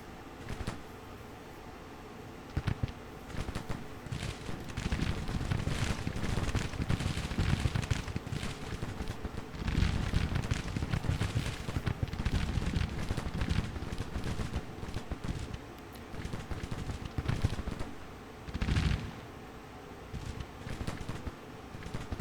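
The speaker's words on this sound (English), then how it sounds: "Looks like this artillery's engaged this brigade here." Artillery and musket fire rumble through a Civil War battle in the strategy game Grand Tactician: The Civil War, a dense, continuous run of distant booms and crackling volleys that swells and ebbs without a break.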